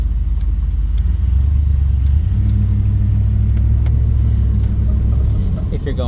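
A 1997 Ford pickup with a 460 engine drives along, its deep engine rumble steady and close, the low drone shifting in pitch midway with road noise and faint clicks on top.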